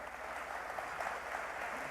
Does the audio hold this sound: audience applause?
yes